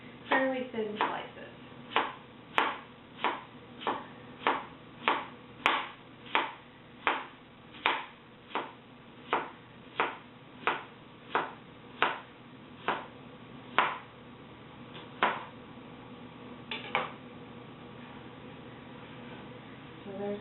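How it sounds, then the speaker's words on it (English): A knife slices baby zucchini into thin slices on a cutting board, making a close, steady series of about twenty crisp, evenly paced chops that slow slightly toward the end, with no speech over them. "So what I do is just trim the ends off and then slice it just like that, fairly thin slices"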